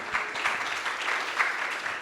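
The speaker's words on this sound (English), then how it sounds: "Please join me welcoming Martin with a big round of applause" A conference audience at ETH Prague applauds to welcome a speaker on stage, a steady, dense wash of clapping from many hands in a hall that runs for the whole stretch with no voices over it.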